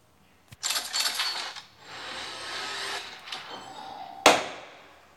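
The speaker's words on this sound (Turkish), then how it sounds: "Kasa açıyorum." Opening a case in a video game: a click followed by mechanical rattling and a spinning, ratcheting whir that slows down, ending in a bright metallic chime.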